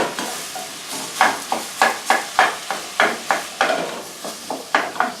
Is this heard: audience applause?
no